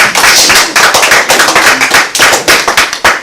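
Congregation clapping hands in praise at a Shabbat service, a dense burst of sharp, fast claps from many people, loud and close, with no talk over it.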